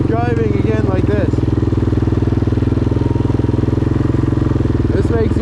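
A Yamaha Grizzly 660 ATV engine runs steadily after being restarted, a loud continuous low throbbing idle that holds for the whole stretch, with someone talking over it at the start and end.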